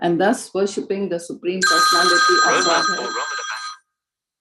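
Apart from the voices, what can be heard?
mobile phone ringing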